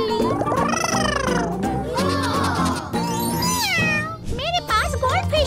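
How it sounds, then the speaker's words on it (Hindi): A cat, apparently a toy or cartoon one, meows in several bright, rising and falling cries close by, mixed with jingling tones and a lively, playful voice throughout. "और अब मेरी बिल्ली।"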